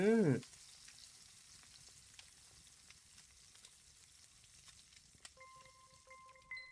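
Pork belly frying in oil, a quiet steady sizzle with scattered crackles, opened by a brief voice and ending with a few electronic beeps.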